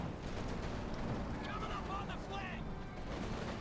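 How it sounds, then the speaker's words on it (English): An artillery strike lands during a Company of Heroes 2 battle, a dense, continuous rumble of blasts and debris that roars steadily throughout without letting up. "No, that artillery strike called in by the Major."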